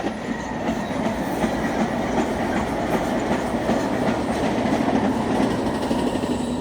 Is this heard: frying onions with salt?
no